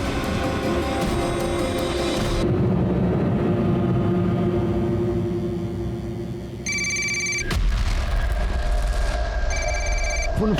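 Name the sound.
telephone ringing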